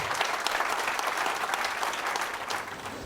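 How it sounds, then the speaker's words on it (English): Steady applause from a gathered audience at a family celebration, continuous and fairly close for the whole stretch, with no talking over it. "So give them a round of applause, please."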